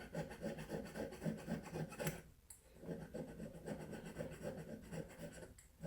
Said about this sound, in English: take your file and polish it off